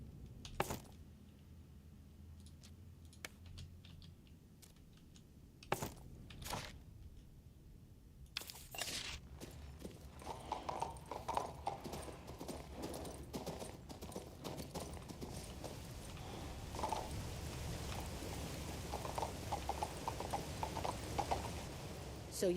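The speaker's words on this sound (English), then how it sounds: "Oh, we can use a horse here." Horse hooves clip-clop in the fantasy video game King's Bounty II, soft and rhythmic beneath a steady game soundscape, with scattered clinks and rustles and occasional speech over the top.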